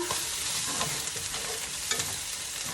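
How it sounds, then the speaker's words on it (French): An egg sizzles steadily in a pan on low heat while cooking for an Italian sub, a dense, even crackle close up with faint scraping touches and no voices. "L'œuf va cuire dedans."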